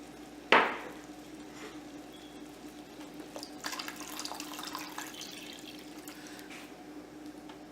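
Water is poured into a pot of goulash holding chili powder, salt, pepper and tomato, beginning with a sharp splash and continuing as a soft, steady trickle.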